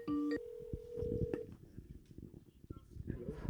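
A phone call to an MMA fighter being placed: a short burst of dialing tones, then a steady tone for about a second, followed by faint clicks and low background noise.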